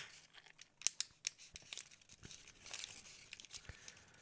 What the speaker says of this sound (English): This is the sound of folding, right?